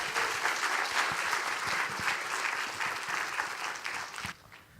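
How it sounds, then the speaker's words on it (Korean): A church congregation applauds to welcome a speaker at a Sunday evening worship service, with warm, sustained clapping from many hands that cuts off abruptly near the end. "우리 박수로 우리 환영하겠습니다"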